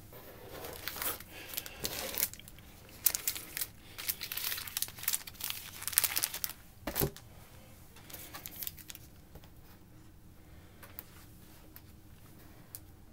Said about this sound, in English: We've got five of these packs to open. We're going to open these up